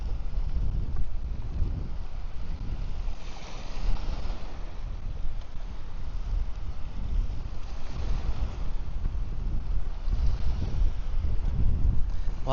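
Steady gusting wind buffets the microphone at a windy seaside park in Phuket, with a low rumbling wash of waves and surf beneath, continuous and fairly loud throughout.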